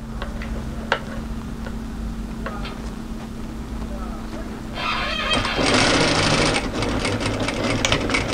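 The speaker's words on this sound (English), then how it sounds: "We're going to start sewing directly opposite the notch." A sewing machine stitches a seam on a mid-length wrap cardigan, with quiet ticking at first under a voice, then a louder steady whir of stitching starting partway through and running to the end.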